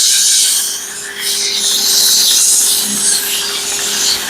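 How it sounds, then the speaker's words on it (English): Wood being sanded by hand, a loud, continuous abrasive rasp with a brief dip partway through before the rubbing strokes resume. "And we'll do a little sanding here."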